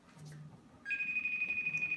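A FaceTime video call rings on a phone. A steady electronic tone begins partway through and holds continuously after a quiet stretch of faint room noise.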